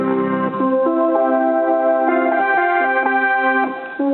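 Sustained keyboard notes and chords play from a MIDI sound module triggered by a small arranger keyboard, a clean continuous melodic line with changing pitches, loud and alone.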